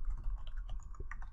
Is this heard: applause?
no